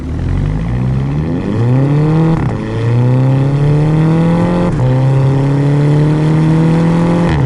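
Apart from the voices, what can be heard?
2011 VW Golf GTI MK6 dual clutch engine burble while revving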